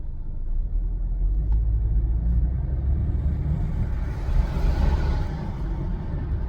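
A car rolls along a road heard from inside the cabin, a steady low rumble of engine and tyres with no talk over it.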